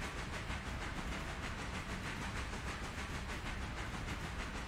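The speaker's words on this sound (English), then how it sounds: "just the steam sounds going over the diesel sounds." Steam locomotive sounds layered over diesel engine noise in the Railroader train game: a loud, steady hiss with a faint rhythmic pulsing, continuous and without talk.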